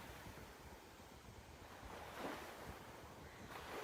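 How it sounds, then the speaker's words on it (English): Ocean waves wash onto a shore and draw back in a steady, soft rolling surge, with gentle wind noise over the water and no voices. "One wave pulls back again. Over and over, as if the ocean itself were breathing peacefully."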